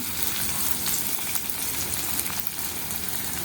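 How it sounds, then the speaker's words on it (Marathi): Green chillies fry in oil in a pan for kanda poha, giving a dense, loud, continuous sizzle with crackling pops up close and no talk. "टाकणार आहे हिरवी मिरची, टाकणार आहे, छान फ्राय करून घेते।"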